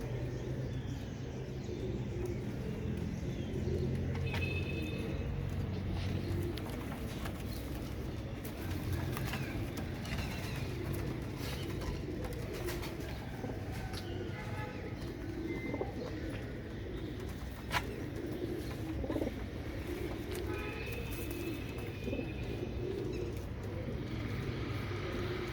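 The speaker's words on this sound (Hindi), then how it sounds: "ये दोस्तों सब काट वाले कबूतर हैं माशाल्लाह।" Kanto Walay Teddy pigeons in a loft, soft repeated cooing from several birds with occasional chirps, wing flutters and clatter, moderately near over a steady background.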